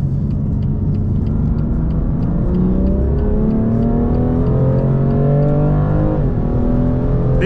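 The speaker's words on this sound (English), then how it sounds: "We are in M1 mode, entering the Autobahn for a little pull." A BMW M2 Competition with a 3.0-litre engine in M1 mode pulls hard onto the Autobahn, heard from inside the car as a loud, deep engine note climbing steadily in pitch through the gears, alone and without talking.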